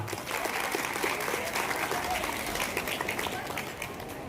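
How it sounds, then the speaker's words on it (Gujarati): Audience in a town hall at a student award ceremony applauds: dense, continuous clapping from a large crowd, loud and sustained across the whole stretch, fading slightly at the end. "પ્રજાપતિ યુવા વિકાસ કેન્દ્ર માટે જોરદાર તાળીઓ પાડીએ."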